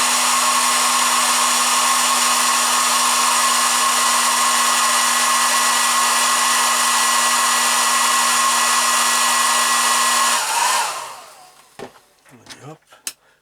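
A hair dryer blows steadily and loudly at close range with a constant whine for about ten seconds, then cuts off and winds down, followed by a few faint clicks and handling sounds.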